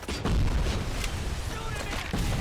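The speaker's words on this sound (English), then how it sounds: "Watch out! Grenade!" A grenade blast in the video game RoboCop: Rogue City, a loud sustained rumble of explosive booms and gunfire layered together, with a voice shouting over the noise.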